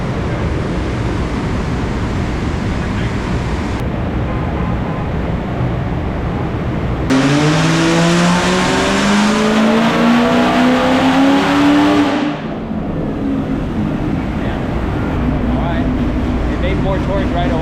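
A Camaro ZL1 1LE running on E50 fuel roars through a full-throttle pull on a Dynapack hub dyno, its engine note climbing steadily in pitch and then cutting off, over loud constant shop noise with people talking.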